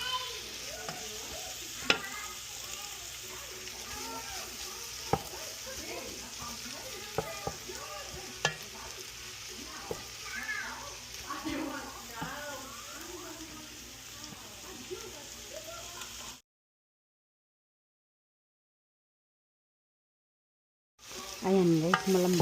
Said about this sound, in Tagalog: Iluluto natin guys yung kamatis hanggang sa